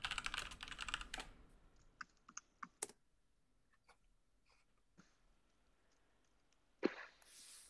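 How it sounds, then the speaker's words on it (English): Keys clatter on a computer keyboard in a quiet room, a quick burst of rapid typing followed by scattered single taps and short clusters, close but faint. "We're typing up a storm in Discord."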